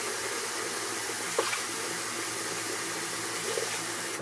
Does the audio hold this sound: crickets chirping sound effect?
no